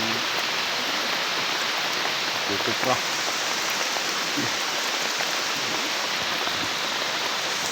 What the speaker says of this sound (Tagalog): Kita nyo, lakas ng ulan